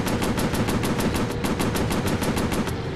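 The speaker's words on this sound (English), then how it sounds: "Yeah, machine guns." Rapid aircraft machine gun fire in the VR game Warplanes: Battles over Pacific, a loud, even burst of about six shots per second running continuously, close and with no talk over it.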